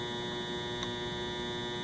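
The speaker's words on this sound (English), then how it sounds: "That's my dryer buzzing." Steady, faint electrical buzz of a clothes dryer running in a nearby room, a constant even hum alone with no voices.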